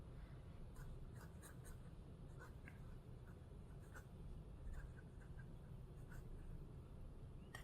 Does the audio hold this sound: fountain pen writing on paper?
yes